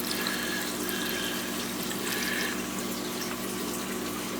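An open-ended siphon draws water and debris out of a planted 40-gallon breeder aquarium, making a steady close gurgling rush of flowing water with no break and no voices.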